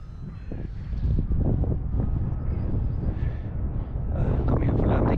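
Gusty wind buffets the microphone outdoors with a low rumbling roar, while people talk over it.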